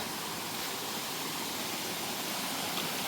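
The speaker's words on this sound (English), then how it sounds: "We have come to Mountaineer Falls." Mountaineer Falls, a waterfall on a forest hike, gives a steady broadband roar of rushing water, even and unbroken, with no voices.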